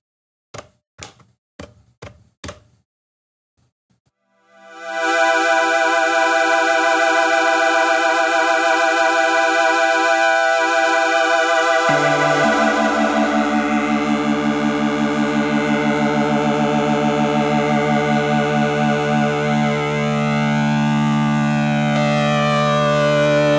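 A few sharp knocks, then a loud "cosmic tone" keyboard preset through a 1985 Casio AS-20 amplifier swells in and holds, a shimmering sci-fi drone whose pitch shifts and warbles.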